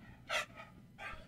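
A dog barks twice, short sharp woofs spaced about half a second apart, fairly faint and a little distant indoors with no talk over them.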